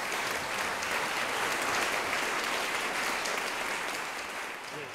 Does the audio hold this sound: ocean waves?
no